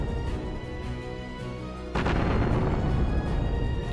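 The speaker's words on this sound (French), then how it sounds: "Puis vient l'explosion de l'arsenal." An arsenal's gunpowder stores blow up in a cinematic battle scene. A deep, rumbling blast erupts halfway through over a low, ominous background drone and keeps roaring and crackling loudly to the end.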